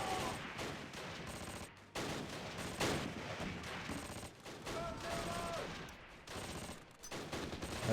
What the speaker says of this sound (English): The mortar team is shooting there.